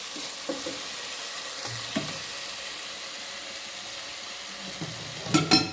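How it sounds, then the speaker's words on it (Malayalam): Mandi masala being stirred into potatoes in a pan: a low continuous frying hiss with occasional soft spoon scrapes, ending in a louder clatter of utensils near the finish, no one speaking. "1 സ്പൂണ് മന്തി മസാല ഇട്ട് കൊടുക്കട്ടെ. മസാലയ്ക്ക് നല്ലോണം ഇളക്കി"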